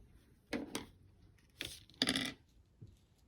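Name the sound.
scissors cutting paper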